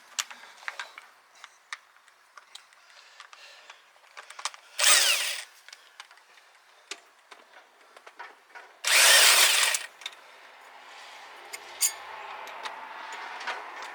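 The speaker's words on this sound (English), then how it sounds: "Spin them off with the speed wrench." Ratcheting clicks and quick scraping spins of a speed wrench running loose nuts off a Detroit 453T engine, close by, with two louder sustained bursts of spinning among scattered metallic ticks.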